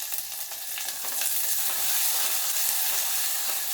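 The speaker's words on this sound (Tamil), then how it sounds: "வெங்காயம், பூண்டு, ஒரு பச்சை மிளகாய், இது வதக்கிக்கலாம்" Onion, garlic and a green chili sautéing in oil in an earthen pot, a steady close hiss and sizzle that grows slightly louder while being stirred, with no voices.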